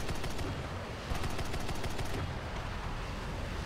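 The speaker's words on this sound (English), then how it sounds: "Let's just take a look at shooting this vehicle really quickly." Rapid 30mm cannon fire from a Japanese R2Y2 KAI V3 jet in War Thunder, a dense, loud, continuous burst of automatic shots that runs nearly the whole time, with a brief pause and renewed firing partway through.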